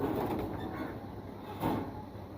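Pigeons coo softly in a loft, a low murmuring burble set against a dense, noisy background with no voices.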